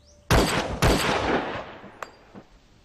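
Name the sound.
volley of gunfire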